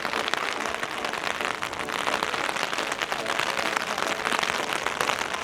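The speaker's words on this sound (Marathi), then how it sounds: "असा पाऊस बिऊस मजबूत पडतोय" Heavy rain pours down outside Hidimba temple in Manali, a soft, continuous hiss of drops spattering on surfaces that holds steady from start to finish.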